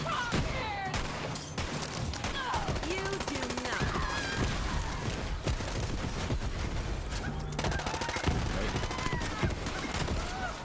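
Rapid, continuous gunfire from the Solvent gun in Borderlands 3's Bounty of Blood add-on, dense cracking shots and bursts filling the whole stretch over a busy game soundscape.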